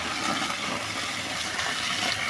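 Gem gravel from an Anuradhapura gem pit being washed in water, with continuous close sloshing and gushing at a steady level and no voices.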